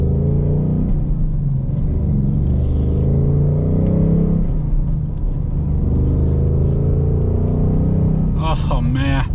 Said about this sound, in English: God, that V8 sounds damn good.